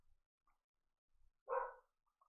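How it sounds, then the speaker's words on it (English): A dog barks once at some distance indoors, a single short, moderately loud woof with faint thuds before it and nothing else around. "My dog's barking."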